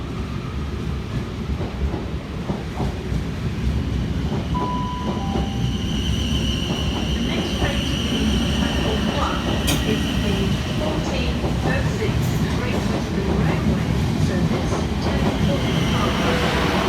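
A South Western Railway train rumbles steadily through Southampton Central station, loud and continuous with wheel clatter and brief squeals, and a voice talks faintly underneath.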